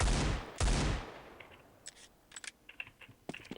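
Two heavy, booming Desert Eagle pistol shots in a modded Counter-Strike 1.6 game, followed by a string of light, crisp metallic reload clicks and snaps.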